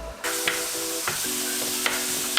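Lean grass-fed ground beef sizzles steadily in a pan, close by, with sharp crackles and pops. A faint tonal hum sits underneath, and there is no speech.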